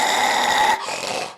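A man imitates a pitbull, producing a loud, harsh, rasping growl-bark that holds steady, then drops off and trails away into a rougher, quieter snarl.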